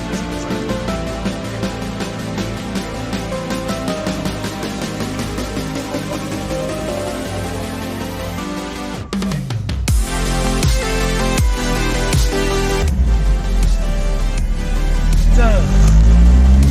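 Ford GT40 engine cranking and running at close range, a steady loud mechanical roar that swells and roughens near the end.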